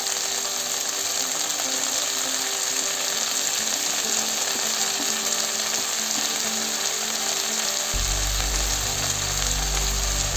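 Chopped tomato and spinach fry in a pan with a steady, loud, dense sizzle that runs unbroken throughout, a deeper bubbling rumble joining near the end; no voices.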